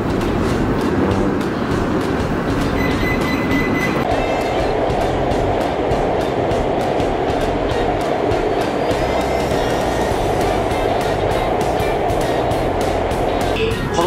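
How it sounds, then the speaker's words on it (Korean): Qingdao metro subway train running, a loud continuous rumble with rhythmic clicking of wheels over track joints, a tone shift a few seconds in as the train moves, and a steady roar heard from inside throughout. "중국의 지하철입니다."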